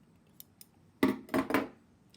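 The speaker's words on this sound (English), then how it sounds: "Grab my scissors, cut it pretty close to that knot." Scissors snip sewing thread close to a double knot during hand sewing: a few soft ticks, then three crisp close snips in quick succession over a quiet room.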